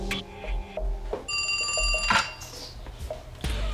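A telephone rings in a home, with a bright, trilling bell burst sounding once, loud and close, over dramatic background music.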